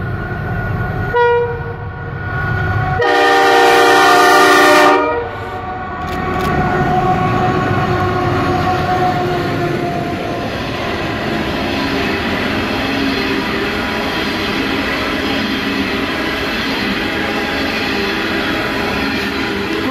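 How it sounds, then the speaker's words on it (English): A train horn blares loudly, then a long heavy loaded coal train rumbles past continuously in the Hunter Valley, Australia, the steady clatter of cars rolling on and on. "And another coal train."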